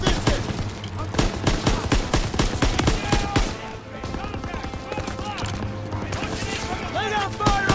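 Rapid bursts of machine gun fire from a World War II battle in the Call of Duty WW2 video game, dense, loud and continuous with overlapping shots, under shouted voices.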